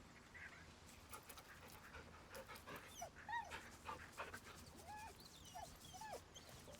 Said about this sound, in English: We have a talking dog now.